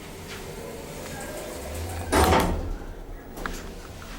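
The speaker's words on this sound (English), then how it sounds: "Let's close the door and we'll get a cab view." A 2012 Otis Series 2 hydraulic elevator door slides shut with a short rumbling thud near the middle, followed by a faint knock, heard close in a quiet cab.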